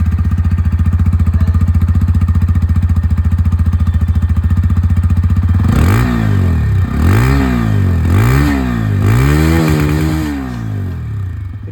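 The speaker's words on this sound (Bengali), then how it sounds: "আর তারপরে এখানে আমি আপনাদেরকে যে ইঞ্জিনের এক্সস্ট সাউন্ড, চলুন ওটাও আপনাদেরকে শুনিয়ে দিই।" A 2024 TVS Apache 160 2V Racing Edition motorcycle idles with a loud, rapid exhaust putter, then is revved in four or five sharp, rising and falling blips before settling back, heard up close without talk.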